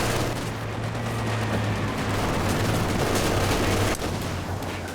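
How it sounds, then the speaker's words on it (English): Dense, continuous battlefield gunfire in the Company of Heroes 2 video game, a machine gun firing steadily to suppress infantry amid other shots and booms, loud and unbroken throughout. "MG in a good spot here to suppress the entire lot of infantry here"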